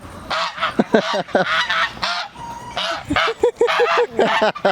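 Geese honk loudly and repeatedly in a noisy, overlapping chorus close by, with harsh nasal calls coming in bursts.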